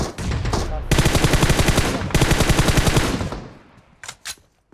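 Automatic gunfire erupts in the mobile shooter PUBG Mobile in two long, rapid bursts of close, loud shots. A few separate single shots follow as the firing fades.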